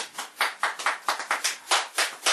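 Hand clapping, about a dozen sharp claps in a quick, slightly uneven rhythm, close and fairly loud, with no voices.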